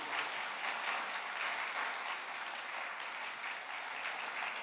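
A church congregation claps together in praise, a dense, steady wash of many hands applauding at moderate distance, continuous for several seconds with no voices over it.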